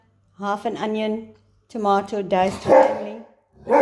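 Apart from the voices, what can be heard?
dog barking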